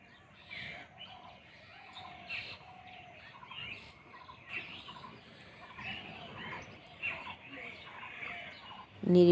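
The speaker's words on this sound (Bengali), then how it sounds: "শুধু চারিদিকে পাখির ডাক।" Birds call and chirp by a village pond at dawn, a continuous mix of scattered tweets and chatter at moderate distance, with a faint insect-like hum beneath and a brief louder sound at the very end.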